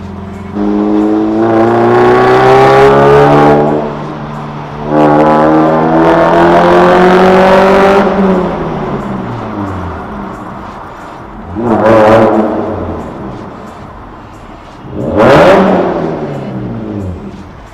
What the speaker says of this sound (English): I will hopefully be able to give you a blast of what the car sounds like in a tunnel